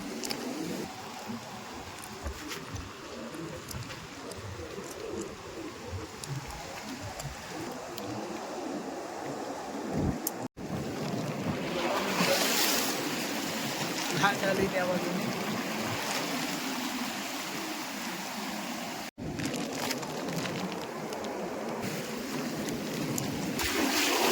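Large sea waves washing onto the shore during an evening shellfish hunt, a continuous broad surf roar with swelling surges, heard close and loud, with people talking over it.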